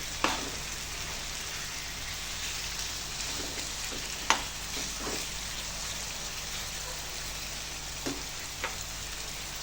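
Chicken pieces fry in oil for a dhaba-style chicken fry, giving a steady, moderately loud sizzle with a few sharp spatters and pops and no voices.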